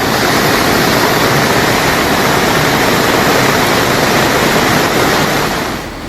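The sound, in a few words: flood water rushing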